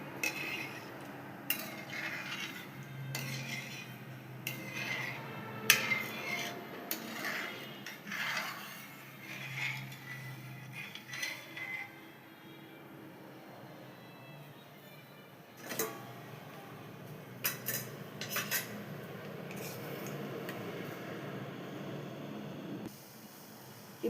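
A spoon stirs milk in a pot while making palkova, with intermittent scraping and clinks of utensil against metal over a soft bubbling background, fairly close and quiet.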